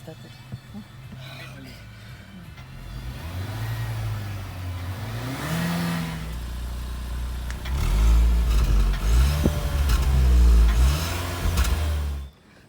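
The turbo engine of a 2020 Renault Captur SUV runs steadily and then revs in two swelling bursts, loud and close, with some clatter before it cuts off abruptly, while people talk nearby.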